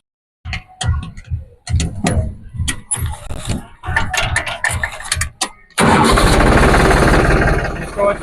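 A New Holland 3630 tractor engine is started on trial after someone speaks, catching with a sudden loud rumble that settles into a steady, close running clatter.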